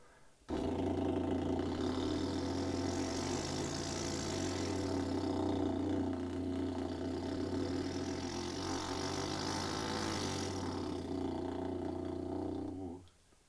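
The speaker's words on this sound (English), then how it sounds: "but we change the pitch of the lip roll, which sounds like this." A steady, buzzing lip trill holds a low droning tone for over ten seconds, close and even in loudness, then stops abruptly.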